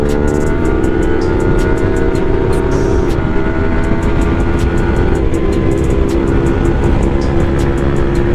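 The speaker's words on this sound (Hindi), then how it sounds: "आवाज़ सुन रहे हो ना, एग्जॉस्ट।" A Yamaha R15M 2022 motorcycle engine drones and revs loudly close by, its exhaust roaring steadily with a rough, buzzing texture throughout.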